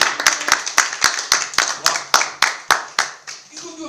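Hands clap in a steady, rhythmic series of about fourteen sharp, close claps at a small club storytelling event, with a few faint voices and a brief murmur at the end.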